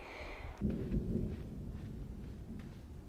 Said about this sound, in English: As you probably heard, thunder is starting to happen